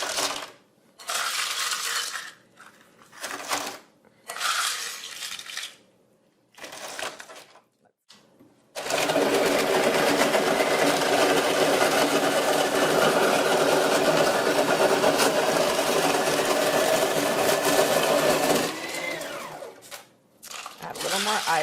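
Snow cone maker crushing ice, grinding in short loud bursts that stop and start, then one long sustained churning run, with brief pauses between bursts.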